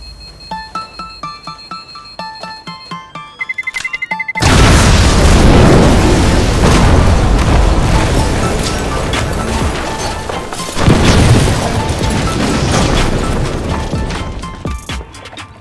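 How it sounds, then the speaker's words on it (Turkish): A loud bomb blast erupts in a Turkish TV drama scene, a sudden heavy boom that swells into a long rumbling roar and then a second surge, following a brief quieter stretch of music. "Bomba var, bomba var."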